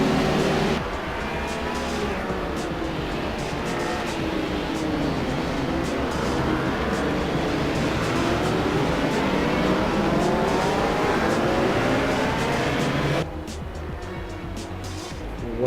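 Race cars in Assetto Corsa at Vallelunga, a pack of engines droning loudly together with rising and falling pitch as the field rolls through the corners, then the roar suddenly thins near the end.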